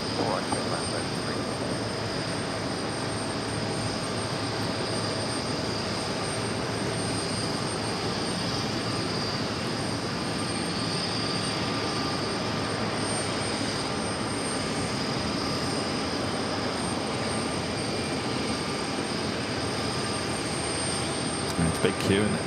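A jet airliner rolls down runway 4 left at JFK, a continuous low engine rumble with a thin high whine, heard at moderate distance with faint voices at times.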